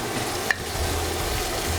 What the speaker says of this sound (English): sweat the onion